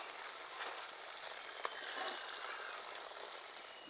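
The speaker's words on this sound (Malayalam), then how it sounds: "വല്ലാതെ മൊരിച്ച് പൊരിച്ചെടുക്കാൻ പാടില്ല. കുറച്ച് ജ്യൂസി ആയിട്ട് വേണം പൊരിക്കാൻ." Meat for Irani pola fries in a pan with a faint, steady sizzle and a light, continuous crackle, broken once by a brief click midway, with no voices.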